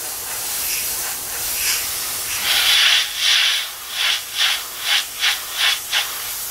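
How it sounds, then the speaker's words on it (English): Spray paint hisses into a goalie mask stencil, first in a longer burst and then in a run of short, evenly spaced blasts, close and clear with no talking. "There's really not too much to this other than just spraying it in."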